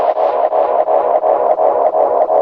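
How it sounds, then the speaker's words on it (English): An electric guitar runs through the tape echo delay of an Eventide TimeFactor pedal. A single mid-range tone repeats in an even, pulsing rhythm of echoes, loud and close, with no voices. "let's hear some of the tape echo."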